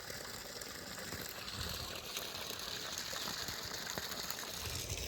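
Water pours steadily from the outlet of a solar-powered pump under cloudy skies, a continuous rushing flow with a faint mechanical whir, moderately loud and unbroken throughout.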